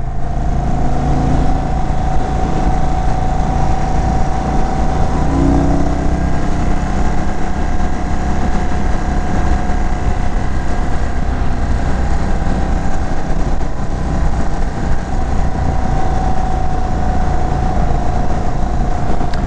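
A 2022 Indian Chief motorcycle rumbles steadily while being ridden through Arizona canyons, a loud continuous engine drone with wind noise and slight shifts in pitch, no talking.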